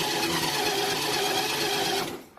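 A Duromax 440cc engine on a Kawasaki Mule cranks during a cold start, giving a loud, steady whirring drone for about two seconds before it cuts off abruptly.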